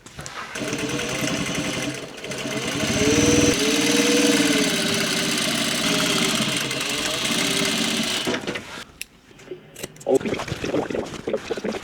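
A sewing machine top stitches a pair of dungarees, running in a steady, close drone for about eight seconds with a slight rise and dip in speed, then stopping. Softer handling noises follow.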